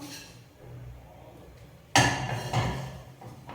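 A metal lid is set down on an idli steaming pot holding ragi podi idli, giving a sharp clank and a second clattering knock against quieter kitchen background.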